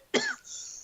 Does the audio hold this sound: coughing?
yes